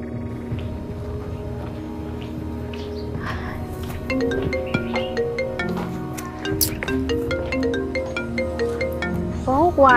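A mobile phone rings with an incoming call from an unknown number, its melodic ringtone growing more prominent over ten seconds against ongoing background sound.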